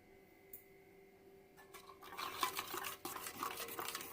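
Oil being stirred into bajji batter in a bowl, soft wet swishing and a few light scraping taps that start quietly and grow busier toward the end.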